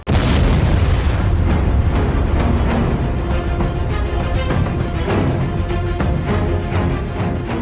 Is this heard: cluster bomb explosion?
yes